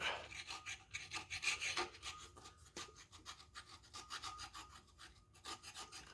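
A hand file rasps across a metal starter ear on a Chevy big block, with repeated close strokes in a steady back-and-forth rhythm.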